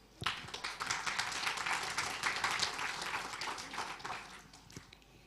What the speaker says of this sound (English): Okay, give them applause.